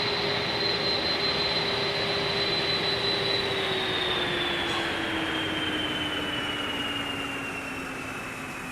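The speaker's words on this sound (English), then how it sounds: "I'm going to have to shut the engines down here, aren't I?" Simulated jet engines of an airliner in Microsoft Flight Simulator 2020 wind down, a loud steady roar with a high whine that slowly falls in pitch as the noise fades slightly, with no voices.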